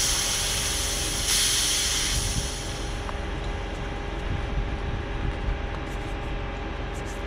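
Anhydrous ammonia hisses loudly out of an opened bleeder valve on a farm applicator, a strong steady rush of gas that drops off after about three seconds and leaves a lower continuous hiss.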